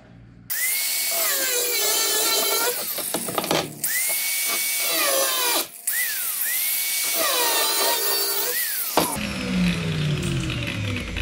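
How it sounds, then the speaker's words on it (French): Two metal rod pieces cut with a power tool while building a bike kickstand: three loud, sustained whining cutting passes with brief pauses between them, ending in a short clatter of metal. "je vais couper ces 2 morceaux qui me servent à rien"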